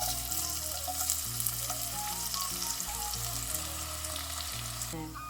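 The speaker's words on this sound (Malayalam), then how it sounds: "ആ ഓയിലിൽ തന്നെ ഞാൻ കുറച്ച് ഉള്ളി വറുത്തെടുക്കുകയാണ്." Onions sizzling and frying in oil left over from frying fish, a steady dense crackle that holds evenly throughout, close up, with no voices.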